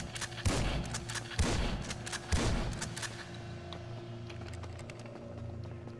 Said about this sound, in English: I'm gonna shoot until I have three rounds left